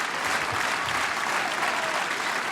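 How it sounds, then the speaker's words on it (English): A large crowd applauding at a Ring of Honor wrestling event in Philadelphia, a dense, steady wash of clapping and cheering throughout. "The crowd responding, coming alive."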